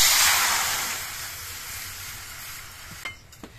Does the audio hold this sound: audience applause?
no